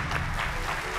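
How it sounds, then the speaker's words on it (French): A TV show studio audience claps for an artist's album, a brief, faint, steady patter of applause with no clear individual claps. "je vous demande encore d'applaudir très fort, s'il vous plaît, pour son album"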